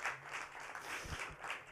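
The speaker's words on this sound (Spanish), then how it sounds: "Un aplauso." An audience at a live podcast interview event gives a brief burst of applause, faint and quick, lasting under two seconds with no voices over it.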